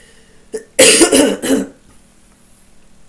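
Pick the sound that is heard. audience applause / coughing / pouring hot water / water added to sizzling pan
coughing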